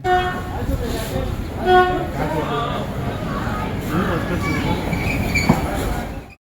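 A Nilgiri Mountain Railway toy train near Ooty passes with rumbling and a horn toot amid lively crowd chatter and voices nearby.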